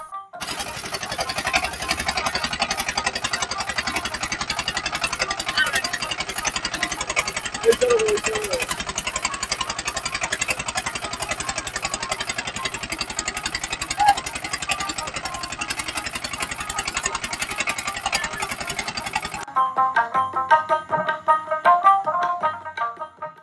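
A motor boat engine on the Teesta river runs with a loud, steady, rattling drone close by for most of the stretch, then cuts off near the end, leaving quieter, scattered sounds.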